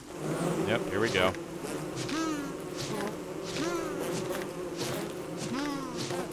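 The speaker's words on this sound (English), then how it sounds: "Now, the bees aren't going to be too bad to deal with." Bees in the video game Don't Starve buzz steadily through the whole stretch, a dense insect drone with repeated rising and falling tones layered over a continuous game soundscape.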